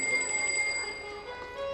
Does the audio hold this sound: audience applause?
no